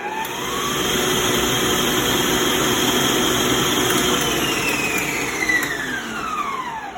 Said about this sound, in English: I'm going to let this continue to mix probably like for 2 more minutes